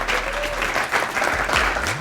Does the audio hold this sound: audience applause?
yes